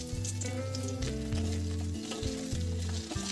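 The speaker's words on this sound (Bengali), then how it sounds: "আলুটা ফোড়নের সাথে ভালো করে নাড়াচাড়া করে নিলাম" Potato pieces sizzle loudly in hot spice tempering for dhokar dalna, a strong, continuous frying hiss close by, with stirring mixed in.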